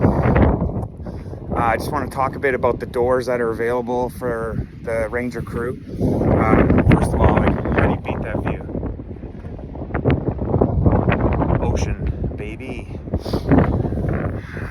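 Strong wind on the Newfoundland coast buffets the microphone with steady roaring gusts. Someone talks continuously over the noise.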